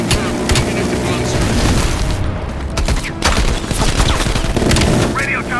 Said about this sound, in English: Bombing strike imminent